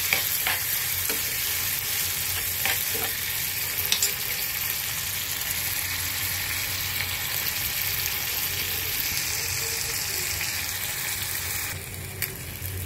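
Shrimp stir-frying in a pan for a Bangladeshi-style prawn bhaji, a steady loud sizzle with occasional scraping of a utensil throughout, no voices.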